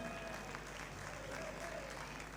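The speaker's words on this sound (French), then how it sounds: "on peut l'applaudir s'il vous plaît, mesdames et messieurs" Steady applause from the audience at a seniors' regional game show final in Toulouse, a dense, even patter of many hands that holds at a constant level for a couple of seconds.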